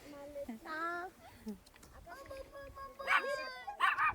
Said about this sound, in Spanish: ¿De quién es su perrito?